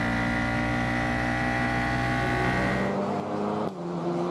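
Ligier JS F422 Formula 4 race cars at a racetrack roar past in a sustained, loud pack with layered engine tones, fading slightly near the end as they move by.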